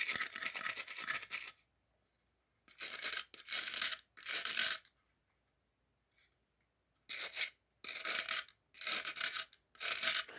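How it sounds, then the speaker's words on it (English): A brass brush scrapes a plastic turret from a Revell 1/35 scale Huey gunship model in close, dry raspy bursts: one long stroke, then a run of three short scrapes, a pause, and four more, with silence between. "you take the brass brush and you just kind of scrape it and keep on scraping"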